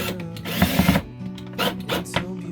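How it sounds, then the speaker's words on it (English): Power drill driving screws outdoors, several short whirring bursts with brief pauses between them, close and fairly loud. "get your drill. Run these screws in."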